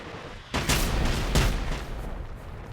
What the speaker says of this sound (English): I also don't have a silencer for this sniper rifle.